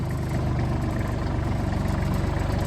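A tractor engine idles steadily nearby, a low, even rumble with a faint pulsing throb that holds constant throughout, with no voices.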